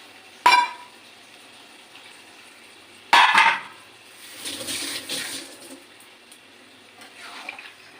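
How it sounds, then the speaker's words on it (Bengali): Water pours into a pan of cooked-down jackfruit curry in two short splashy bursts, the second followed by several seconds of softer bubbling and sloshing, close and moderately loud with no voices. "কষা হয়ে গেছে এবার আমি মোটামুটি জল দিয়ে দেবো"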